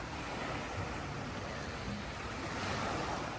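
Ocean waves roll in at night by the shore in the Philippines, a dense continuous wash of surf and wind noise, steady and close with no speech.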